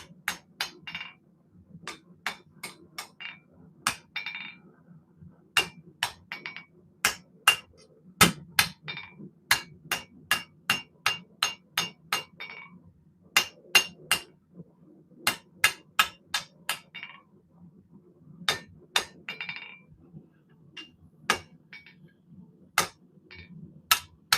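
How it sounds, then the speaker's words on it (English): Hot metal is hammered to taper it on an anvil, giving dozens of sharp, ringing metallic strikes in steady runs with short pauses between them, loud and close with no talking. "time we're going to taper the metal out."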